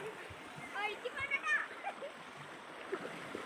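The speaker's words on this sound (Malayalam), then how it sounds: "എൻ്റെ ഏട്ടത്തിൻ്റെ പേരക്കുട്ടി ഭയങ്കര കളിയിലാണ് കേട്ടോ വെള്ളത്തിൽ" A small child plays in water outdoors around evening, making light, irregular splashes in brief bursts near the middle, with soft voices and a quiet watery background.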